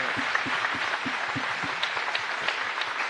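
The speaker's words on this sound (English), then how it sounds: "Round of applause for Steph Curry" Audience applause for Steph Curry at a Warriors Jr NBA parent forum, a steady patter of clapping from a modest crowd, moderately loud and continuous throughout.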